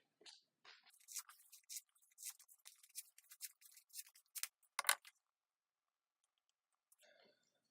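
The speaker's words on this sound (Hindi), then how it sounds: "अब हम इसी टेप के छोटे छोटे पीस काट लेंगे" Small pieces of tape cut one after another from a roll for a homemade softbox, a close run of quick snips, clicks and crinkles lasting several seconds, then a faint rustle after a pause.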